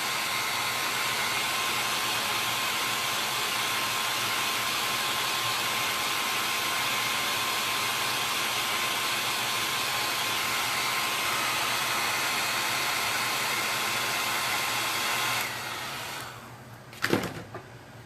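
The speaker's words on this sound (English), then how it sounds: "that hair dryer is probably almost as old as me" A hair dryer blows with a steady, loud whooshing roar for a long stretch. It then cuts off, and a brief clunk follows.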